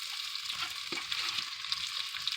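Bacon ends and pieces fry in a pan for collard greens, giving a dense, steady crackling sizzle with scattered pops and a brief stir, close and continuous with no talking.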